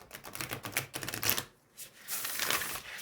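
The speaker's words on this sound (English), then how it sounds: "Oh, it's a beautiful shuffle." A deck of Glow Oracle cards is shuffled by hand, giving rapid, papery riffling clicks in quick bursts, a brief pause, then another softer flurry of shuffling.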